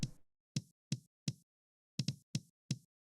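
Eight punchy kick drum hits, boosted with extreme gain and heavy EQ, land in an uneven pattern, each a boomy thump topped by a sharp bright click, loud and dry with silence between.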